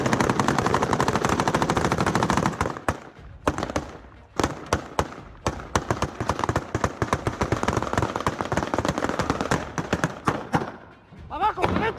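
Rapid bursts of semi-automatic gunfire crack through a street attack in the municipality of Celaya, Mexico, dense loud volleys with brief pauses, followed by a few scattered isolated shots and shouting voices.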